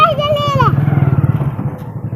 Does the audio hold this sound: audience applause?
no